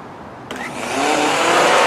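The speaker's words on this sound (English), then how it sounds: "Well, I happen to have a blender right here." A countertop blender powered by a SunJack solar unit switches on and its motor whirs up to a loud, steady, high-pitched roar, heard up close without talk.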